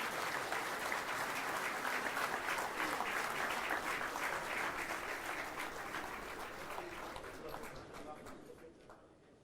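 A large audience at an India–Israel business summit in New Delhi gives sustained applause as two prime ministers leave the hall, a steady wash of clapping that slowly fades toward the end.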